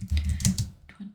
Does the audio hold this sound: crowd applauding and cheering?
no